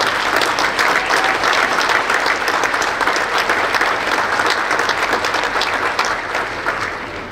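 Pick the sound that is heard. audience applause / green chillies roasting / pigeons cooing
audience applause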